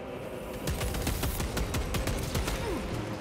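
Repeated sniper and rifle shots in Warhammer 40K Space Marine 2, a dense burst of sharp cracks over about three seconds against a busy battle background, with no speech.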